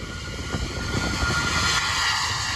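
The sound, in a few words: Cargolux jet airliner with Rolls-Royce engines roaring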